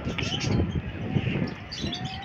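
Pigeons coo softly at a rooftop pigeon-keeping loft, with low repeated coos and a few thin chirps. Voices talk nearby throughout, and the calls sit faintly beneath the chatter.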